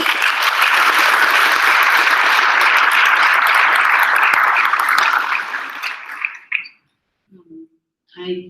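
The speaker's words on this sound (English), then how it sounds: "let's give a round of applause to the new leadership" Closing-session audience at a scientific meeting applauds new leadership, a loud dense round of clapping that fades out after about six seconds, followed by silence and a couple of brief voice sounds.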